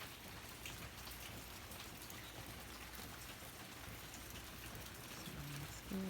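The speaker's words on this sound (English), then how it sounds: "because it's been raining a lot" Rain falls steadily on a yard in Hawaii, a soft, even patter of drops on leaves and surfaces that continues throughout with no voices.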